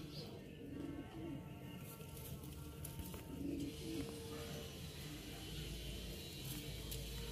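A pair of Madrasi pigeons cooing nearby, soft low throaty coos repeating a few times over steady outdoor background noise, with faint voices in the distance.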